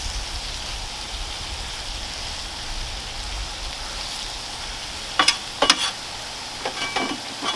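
Frozen potatoes and tomatoes are stirred on a hibachi griddle, giving a steady close sizzle with a few sharp scraping clanks of a spatula toward the end.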